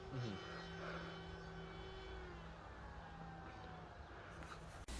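A lidar terrain-following drone climbs over trees, its motors and propellers humming with a steady drone and a rising whine, fairly faint and continuous, with the background hiss of an outdoor setting.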